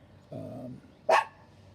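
Two dogs bark in quick succession, a low muffled woof followed by a sharper, louder yip, close by in an otherwise quiet setting.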